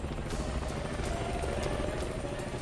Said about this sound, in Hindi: हेलीकॉप्टर में कौन आने लगा पार्टी में?